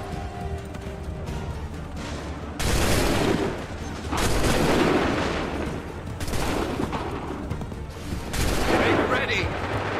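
Musket volleys in Assassin's Creed 3, several loud bursts of massed gunfire crackling for about a second or two each, separated by quieter gaps where commands are shouted.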